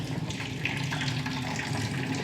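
Water runs steadily from a tap into a basin to soak something, a close, constant splashing rush with no voices.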